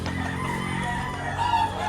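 A rooster crows close by at a roadside poultry sale in Lipa, Batangas, one loud, drawn-out call spread across the whole short moment against faint background activity.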